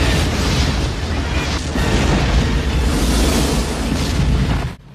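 Explosions from the action film Air Force One rumble in a loud, sustained barrage of booming blasts and debris noise that cuts off abruptly at the end.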